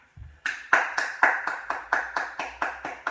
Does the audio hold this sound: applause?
yes